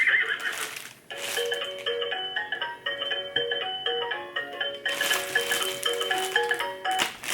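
An electronic toy horse plays a whinnying neigh followed by a tinny synthesized melody of sustained tones, loud and close, with no talking over it.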